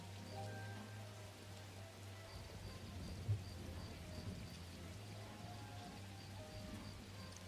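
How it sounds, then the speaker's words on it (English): Steady, soft rain falls in the video game Neverness to Everness, a continuous faint patter with a low hum underneath and one brief thump partway through. "It's raining in this game and the NPCs are fucking running around like covering their heads and stuff."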